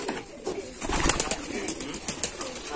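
Rajshahi Giribaz pigeons cooing at a pigeon farm, soft overlapping coos and rustling from a flock, faint and close, with no clear talk.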